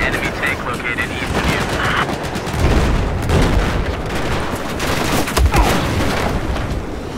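Heavy gunfire and booms in a large-scale online war game while targeting an enemy tank, with dense continuous shooting and impacts throughout and a couple of stronger low thuds.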